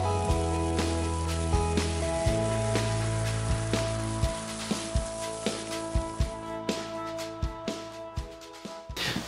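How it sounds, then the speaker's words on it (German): Bacon and onions sizzle in a frying pan, a steady bright crackle with scattered pops throughout, while music plays underneath. "nehmen wir jetzt uns eine Pfanne, packen den Speck ein, lassen den schön aus und dann schmeißen wir noch die Zwiebeln mit dazu, dass sie noch so ein bisschen anschwitzen"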